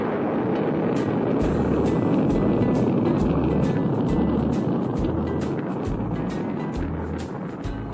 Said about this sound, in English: the sleek white SET interceptor blasts off for